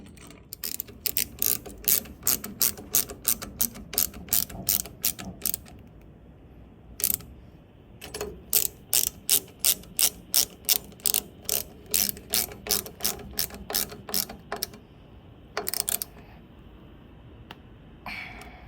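A ratchet wrench tightens bolts on master cylinder brake lines during a frame-to-firewall relocation, giving long runs of rapid, close metallic clicks in steady rhythmic bursts with short pauses between strokes, no talking.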